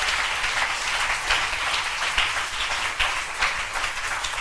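Church congregation applauding together, a steady sustained wash of many hands clapping close by with no break.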